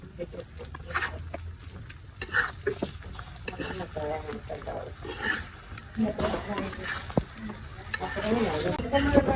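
Coin parotta frying on a hot pan gives a steady, close sizzle with intermittent scraping and stirring clatter from the pan, continuing throughout without speech over it.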